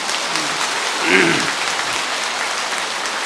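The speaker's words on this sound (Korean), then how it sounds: "그 노인에게 박수 한번 보내드리세요" Applause from a temple assembly during a dharma talk, offered to an elderly woman in attendance: steady clapping throughout, with a faint voice briefly rising over it near the middle.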